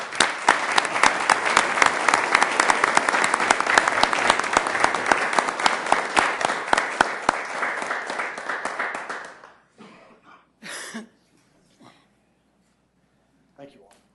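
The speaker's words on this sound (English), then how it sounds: "Let's give them a round of applause." An audience at a Sioux Falls city council meeting claps in dense, steady applause for about nine seconds, then it fades out, leaving a few scattered claps and brief talking.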